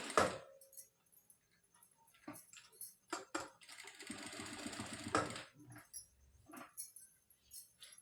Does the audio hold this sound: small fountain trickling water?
no